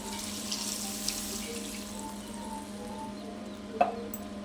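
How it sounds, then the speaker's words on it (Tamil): Water pours steadily into a pot of okra curry with a continuous, moderately quiet stream and a small clink near the end. "தேவையான அளவு தண்ணி ஊற்றுறோம்"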